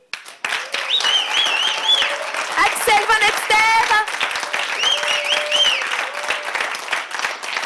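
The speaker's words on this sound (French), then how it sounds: "Je vous demande d'applaudir Marion Billy" Applause from the audience of a live radio entertainment show fills the room continuously, with a presenter's voice speaking over the clapping throughout.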